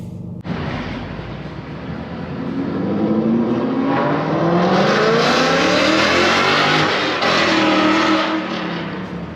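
A 2023 Ram 2500 Rebel with a Cummins diesel engine pulls hard under load, a loud, steady drone that rises as it climbs through the gears, heard close from the cabin with no talking.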